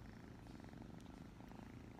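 A house cat purrs softly and steadily in a continuous low rumble, close by and quiet, with no voices over it.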